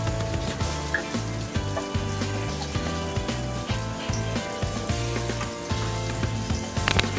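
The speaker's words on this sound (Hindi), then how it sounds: "अब इसे हल्का भून लेंगे।" Tomato fries lightly in a pan for a paneer dish, with a steady close sizzle over repeated low rhythmic bumps and occasional crackles.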